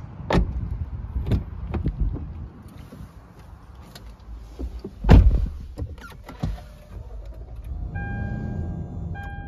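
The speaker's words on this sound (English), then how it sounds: "Let's do a startup." A 2015 Lexus GX 460 Premium 4x4 starts up nearby, with clicks and a brief thump followed by a low, steady idle and a faint electronic chime toward the end, heard alone without talk.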